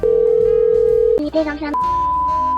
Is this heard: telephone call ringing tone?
yes